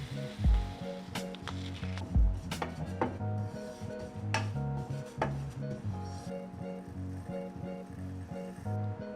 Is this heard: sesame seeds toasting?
yes